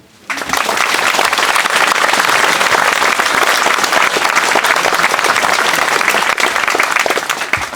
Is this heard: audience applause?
yes